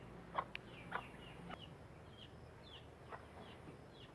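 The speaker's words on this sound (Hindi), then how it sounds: "ये असील मुर्गा है।" An Aseel rooster and hens on a dairy farm in Chakwal, Pakistan: a few scattered soft clucks and short calls, fairly faint against a quiet outdoor background with a faint high insect hum.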